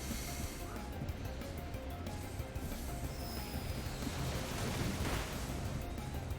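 A Waterfall attack effect from Pokémon Brilliant Diamond gives a steady rushing, surging water wash with crashing noise, loud and continuous throughout.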